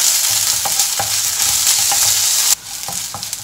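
Masala for egg curry sautés in a pan, a continuous bright sizzle broken by repeated rhythmic scrapes of a spatula stirring, the hiss dropping suddenly near the end.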